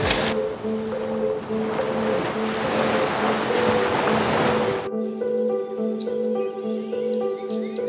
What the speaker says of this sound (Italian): Si inizia a sentire il mare.